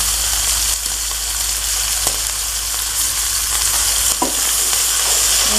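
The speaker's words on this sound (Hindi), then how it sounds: "अच्छे तरीके से फ्राई करें।" Vegetable fried rice stir-frying in a pan with soy sauce and salt, a loud, constant hissing sizzle up close with occasional spatula scrapes and knocks, no talk.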